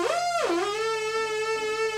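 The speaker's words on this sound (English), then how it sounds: "the Arp Odyssey basically has two oscillators" Green oscillator of an Arp Odyssey synthesizer, a buzzy, harmonically rich sustained tone that swoops down in pitch early on, then holds a steady note, loud and close for about two seconds.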